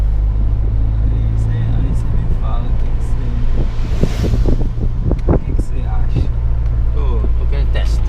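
Chevrolet Tracker 2.0 16V turbo 4x4 fitted with a larger exhaust, driving along with a steady low engine drone and road rumble throughout, people talking over it inside the cabin.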